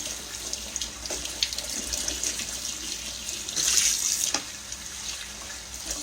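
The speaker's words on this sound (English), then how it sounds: "I've got my cold water running on them." Cold water streams steadily from a kitchen faucet over freshly boiled eggs in a sink, a continuous close hiss and splash with slight surges, with no talking.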